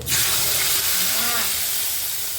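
A sharp surge of sizzling as tempering spices with curry leaves and asafoetida hit hot oil for kadhi, a loud steamy hiss that crackles and gradually settles.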